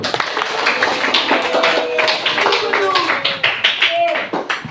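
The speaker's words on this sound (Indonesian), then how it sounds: "Kasih tepuk tangan untuk kita semua." A classroom group of children and teacher clap together in a school lesson, a steady burst of many hands applauding close by with voices mixed in throughout.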